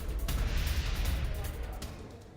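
Heavy gunfire and rocket fire at a power plant in Donetsk come through as muffled, distant booms and rumbling bursts. Two sharper cracks stand out, and a voice can be heard among them.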